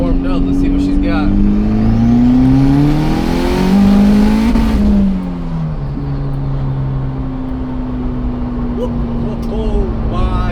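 A street-tuned Honda Integra engine revs hard, loud and close, its pitch climbing, dipping and climbing again before settling into a steady high drone, with voices over it.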